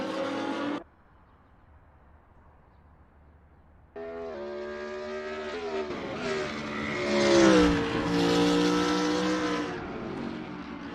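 BMW Z4 race car engine in the Assetto Corsa racing sim, a brief burst then silence before the engine returns, revving up through the gears with a rising, climbing tone and a loud peak before easing back.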